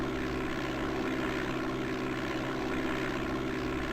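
A propeller airplane engine in the DOS flight simulator game Flight Simulator 5.1 drones at takeoff power, a steady loud uniform hum that runs unbroken throughout.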